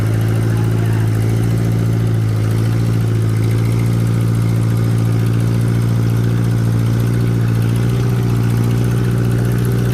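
A heavy antique tractor engine runs steadily and loudly at a low, throbbing idle-like pitch during a tractor pull at a county fair, for the whole stretch, with no voices.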